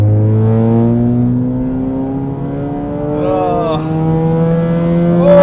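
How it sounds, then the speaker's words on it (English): Straight-piped Skoda Fabia with a 1.2 TSI engine revving up close, a loud droning exhaust note that rises and falls in pitch with blips of throttle, with a voice speaking over part of it. "Oh my God, it gets worse the more you rev it."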